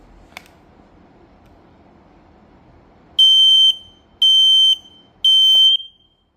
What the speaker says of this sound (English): next we have a Red Smoke Alarms model R9.